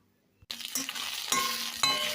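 Ivy gourd (kovakkai) fries in a pan in a home kitchen. After a brief near-silence, a loud, steady sizzle begins and carries on, with several sharp scraping and stirring clatters.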